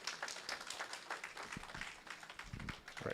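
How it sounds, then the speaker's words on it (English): Audience at an annual general meeting applauding, a modest round of scattered hand claps at moderate distance that continues steadily for a few seconds. "round of applause, please"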